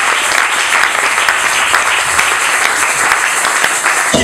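A church audience applauds, steady dense clapping from many hands throughout a short burst, loud and full with no voices standing out.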